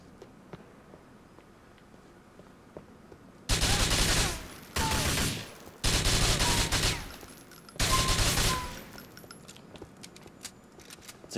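Bursts of automatic gunfire in GTA IV, three or four loud sustained volleys a second or two long each, separated by short gaps over a quieter game background.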